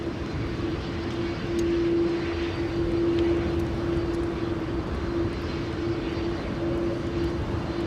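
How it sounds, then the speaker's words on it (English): Delta Airlines Airbus A330-300, a ten-year-old widebody, departing Amsterdam Schiphol for New York JFK in stormy weather: a steady, broad engine roar with a sustained whine, held at an even level throughout. "Delta Airlines Flight 47 to New York, JFK, A330-300"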